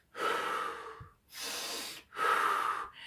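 A voice imitating the laboured breathing of a chest trauma patient: three heavy, raspy breaths in a row, close and fairly loud, with no words spoken.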